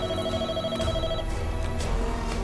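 A landline telephone rings in a Telugu-dubbed Rajinikanth action film scene, a steady electronic ringing tone heard amid a dense, busy film soundtrack, with no one speaking.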